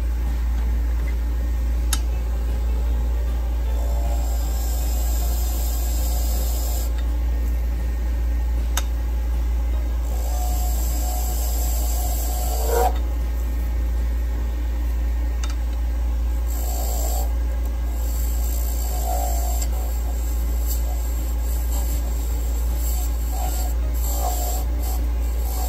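A lathe cuts an aluminum honeycomb pen blank with a diamond carbide tool, its motor humming steadily and loudly throughout, with brief scraping bursts of cutting rising over the drone.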